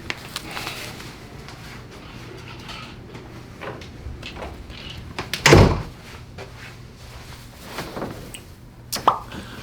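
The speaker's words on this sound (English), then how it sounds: "I wonder if I should close that door." A door shuts with one solid thud midway through a room's quiet background, followed later by a fainter knock or two, close and moderately loud.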